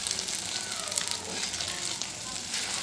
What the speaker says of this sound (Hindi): अब हम इसकी दूसरी साइड पका लेंगे।